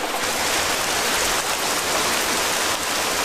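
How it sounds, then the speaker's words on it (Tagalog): Heavy rain pours down in an animated cartoon scene, a dense, loud, unbroken hiss throughout with no voices over it. "Ang lakas pala ng ulan ngayon."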